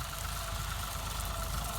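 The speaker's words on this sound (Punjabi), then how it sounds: "ਉਧਰੋਂ ਮਸ਼ੀਨ ਦੇਖ ਲਓ ਹੁਣ ਤੁਹਾਡੇ ਸਾਹਮਣੇ ਚੱਲ ਰਹੀ ਆ" A combine harvester engine drones steadily at a moderate distance in a crop field, a low rumbling hum with no breaks.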